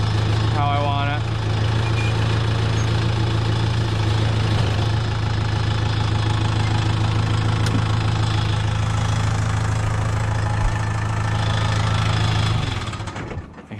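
A tractor engine idles steadily with a low, constant drone and a knocking texture while a garden fence wire is slowly tensioned, running throughout before fading at the end.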